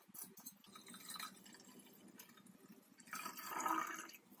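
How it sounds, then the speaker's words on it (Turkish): Strained homemade red hawthorn vinegar is poured slowly into a large glass bottle, a faint, steady liquid trickle that swells into a fuller filling sound toward the end. "Şimdi süzdüğüm bu sirkeyi yavaşça içine dolduruyorum."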